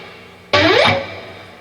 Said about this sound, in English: just do a pick scrape going up